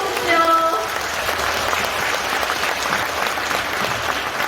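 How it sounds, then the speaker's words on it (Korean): Welcoming applause from party members at a political training event, a loud, sustained wash of many hands clapping, with a voice briefly heard over the first moments. "모두에게 환영의 박수 보내주십시오."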